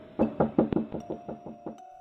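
Someone knocks on a front door nine times in a fairly steady run. The first raps are loud and solid and the later ones grow softer. It is close and has no talk over it.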